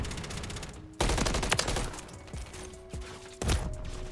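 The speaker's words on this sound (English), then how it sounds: "Where am I getting shot from?" Gunfire in the video game Modern Warfare 3: dense, continuous bursts of automatic shots with sharper loud volleys, fairly close and with no talking over them.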